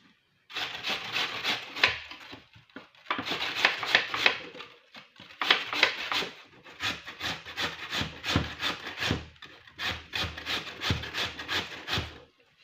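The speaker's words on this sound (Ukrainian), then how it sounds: "На цій же терці я натру картоплю." A raw potato is grated on a hand grater in fast, rhythmic rasping strokes, grouped in bursts with brief pauses, close and clear with no talking.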